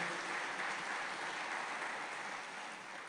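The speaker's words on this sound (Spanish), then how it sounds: "Denle un aplauso a Cristo Jesús" A church congregation claps steadily in a dense, sustained wash of applause that fades slightly toward the end, with no voices over it.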